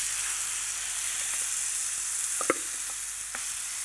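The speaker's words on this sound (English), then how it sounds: "I'm going to use my paella pan for this, so a generous amount of extra virgin olive oil, 3 tablespoons, and we'll add our sofrito base." Sofrito base sizzles steadily in a generous pool of extra virgin olive oil in a paella pan, a constant close hiss with a few brief clinks and scrapes from stirring.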